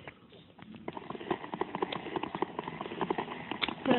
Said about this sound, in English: A horse! I'm gonna kill that horse and get meat.